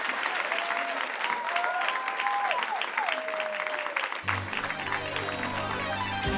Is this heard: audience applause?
yes